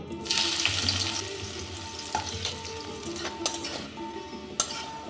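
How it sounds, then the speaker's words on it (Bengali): Chopped onions frying in hot, lightly salted mustard oil, giving a continuous close sizzle broken by a few sharp clinks and scrapes of stirring, with no voices. "এই পেঁয়াজটা ভেজে নেব"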